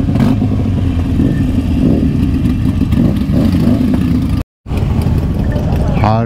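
Motorcycle engines, including Harleys, Ducatis and R1s, rumbling and revving at a group unity ride, a loud continuous low drone close by with a brief cut, under crowd chatter.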